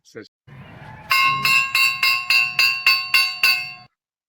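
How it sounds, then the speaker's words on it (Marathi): A school bell rings in eight quick, evenly spaced strikes, bright and metallic with a ringing tone, after a brief murmur of voices and background noise. "ही जी शाळेची घंटा आहे"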